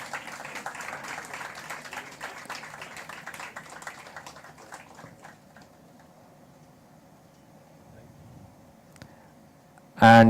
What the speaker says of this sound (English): A big round of applause for him too.